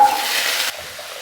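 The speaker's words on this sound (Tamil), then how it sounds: "இப்போ இது கூட கட் பண்ணி வச்சுருக்க பரங்கிக்காயையும் சேர்த்துக்கிறேன்." Cut pumpkin pieces drop into hot oil with a dried red chilli, giving a brief, close burst of hissing sizzle that drops sharply partway through, then a quieter simmering crackle.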